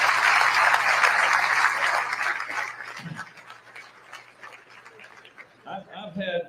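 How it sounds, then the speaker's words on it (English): Audience applauding government department staff at an official event in Louisville, a broad wash of clapping that fades out, with a voice speaking over the end. "Let's give them a big round of applause as well."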